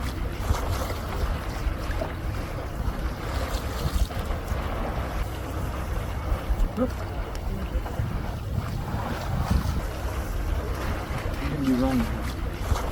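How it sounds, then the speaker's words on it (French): Wind while sailing a boat off Croatia, a steady low rumble and buffeting of wind noise over water lasting throughout, with faint voices in the background. "Du vent."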